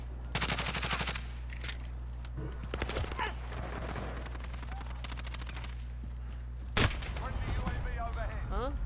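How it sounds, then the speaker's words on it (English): Rapid automatic gunfire in Call of Duty: Modern Warfare, bursts of machine-gun shots at the start and scattered single shots later, with a loud blast near the end. "I don't know why that shot comes through"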